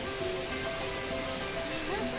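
Steady rushing water of the indoor waterfall at Jewel Changi Airport, Singapore, fills the space, a dense continuous roar with faint tonal background sounds mixed in.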